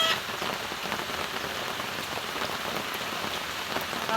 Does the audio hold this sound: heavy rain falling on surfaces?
yes